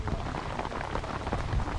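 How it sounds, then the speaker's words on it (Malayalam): Dense, steady patter of rain falling on a surface nearby, with no voices, during a jeep off-road trip at Koyinipara, Mamalakandam. "മഴ പെയ്ത് ഞങ്ങളെല്ലാം ജീപ്പിൽ കയറി കേട്ടോ"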